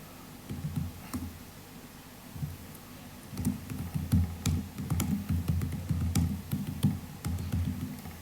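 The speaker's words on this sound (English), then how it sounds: "I can't see what I'm typing" Someone types on a computer keyboard while writing text in Unreal Engine's Motion Designer, producing bursts of quick, irregular clicks and taps separated by short pauses. It is close and clear, with no talking.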